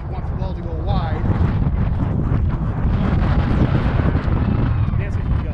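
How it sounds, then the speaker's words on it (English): Heavy wind buffets an outdoor microphone on a paddle sports court, a continuous loud low rumble running the whole time with a voice speaking faintly underneath. "It's very windy today."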